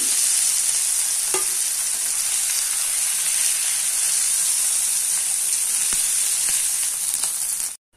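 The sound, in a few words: mushrooms frying in oil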